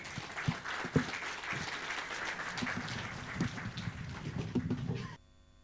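A church congregation at a Sunday service applauds a music group, with steady, moderately distant clapping from many hands and a few louder claps. It lasts about five seconds and then stops abruptly.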